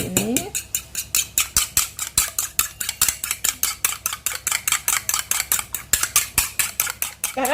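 One raw egg is beaten briskly in a bowl, a fast, even run of sharp clinking strokes that keeps up without pause, close and fairly loud.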